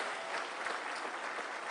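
Audience applause for the President at a call centre launch event, a steady, even wash of clapping, fairly faint and distant.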